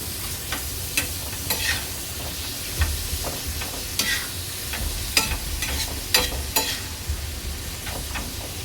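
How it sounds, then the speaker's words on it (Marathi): Prawns frying in a pan for kolambi masala are stirred with a spatula, giving repeated scraping clicks over a steady oily sizzle throughout. "कोलबी चांगली मिक्स करून घ्यायची आहे।"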